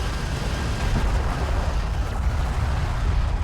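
Sustained explosive rumble of a hostile strike craft being shot down in Homeworld: Deserts of Kharak, a loud, dense wash of blasts and low booms continuing for the full span without letting up.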